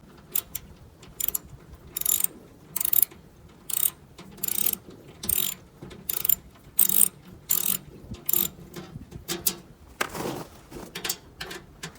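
A ratchet wrench clicks as it backs out four 3/8 bolts from underneath a Simplicity snow blower with one wheel not moving, giving repeated bursts of sharp, rapid ratcheting close up, separated by short pauses.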